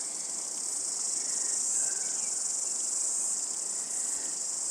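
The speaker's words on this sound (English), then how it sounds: "there's these cicadas" Cicadas buzz in a steady, shrill, unbroken drone, loud and constant with nothing else heard over it.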